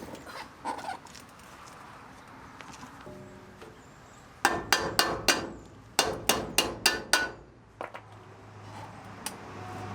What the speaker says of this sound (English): So you gotta hammer them out.